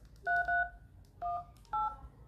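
Keypad dialing tones from an LG V60 phone: four clean two-tone beeps in an uneven rhythm, with the first two close together, heard close up over faint background hiss.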